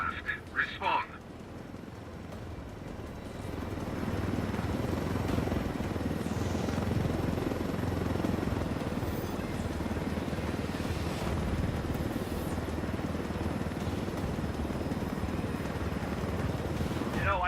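A helicopter flies steadily in Ghost Recon Wildlands, its rotor and engine making a continuous dense roar that swells in after a brief opening sound and holds level, close and loud, throughout.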